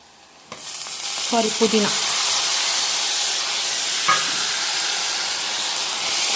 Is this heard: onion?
yes